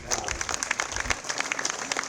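Scattered applause from a modest crowd at a festival opening ceremony, with distinct individual claps heard fairly close for a couple of seconds, while voices murmur faintly in the background.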